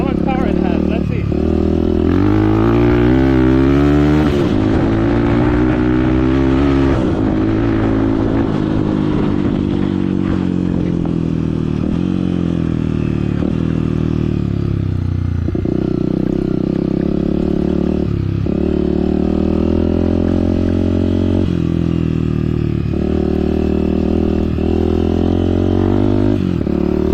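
A Honda CRF 250F dirt bike rides and accelerates, its loud engine climbing in pitch through repeated revs and gear changes, close and continuous for almost half a minute, with a rider's voice partly audible over it.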